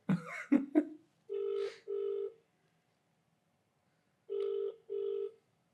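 An unanswered telephone ringing back in a pair of double rings separated by a pause, clear and loud, with a short burst of talk at the start.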